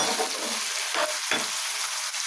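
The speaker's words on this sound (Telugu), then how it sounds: "నేను ఇలా ఫ్రై చేస్తున్నాను" Food frying in a pan for a tamarind-based dish, a steady broadband sizzle with two brief louder scrapes or stirs partway through, close and continuous with no talking.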